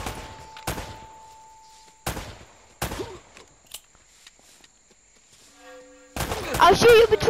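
Gunfire in Uncharted 3: sharp, loud broadband shots at irregular intervals, a few widely spaced blasts then a dense, rapid burst of firing at the end, with a sustained tone underneath and brief voice sounds.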